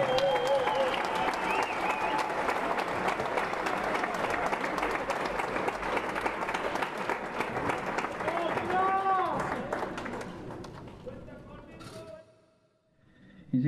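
An audience at a guitar festival concert in Capilla del Monte, Argentina applauds loudly and steadily, the dense clapping carrying on with a few cheers before fading out near the end.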